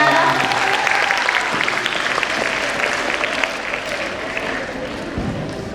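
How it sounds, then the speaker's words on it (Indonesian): Audience applause at a Eucharist celebration marking a high school's 61st anniversary, a dense steady wash of many hands that fades slightly toward the end, with some voices underneath. "Boleh dong diberi tepuk tangan yang meriah."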